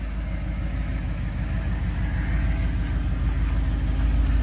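A 2008 Audi R8's 4.2-liter V8 engine idles with a steady, deep, even rumble, close by and loud, with no voices.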